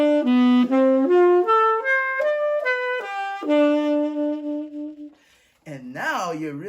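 An instrument runs a triad-pair line for the Lydian major seven sharp eleven sound, four notes climbing and four falling in clear even steps. A brief voice is heard at the end.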